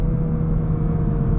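A 2023 VW Golf R MK8 engine braking after a downshift to second gear gives a steady, low, even drone from inside the car, with no change in pitch.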